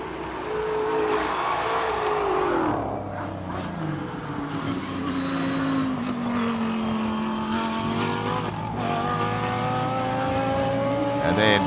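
A pink Lamborghini race car climbs a hill-climb course, its engine note rising and falling through gear changes as it accelerates, loud and sustained, with a commentator talking over the top.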